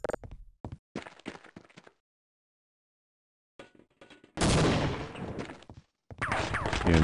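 Weapon fire in the video game Half-Life Opposing Force: a few quiet clicks and bursts early, then after a silence a loud, dense stretch of rapid gunfire with short breaks.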